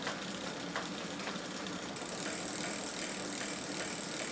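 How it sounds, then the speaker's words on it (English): Grumbly bearings on an 8-speed Pinnacle mountain bike spin with a steady, close-up mechanical whirr and faint ticking. The sound stays even and continuous, with a brighter hiss joining partway through. "Those bearings do sound a bit grumbly"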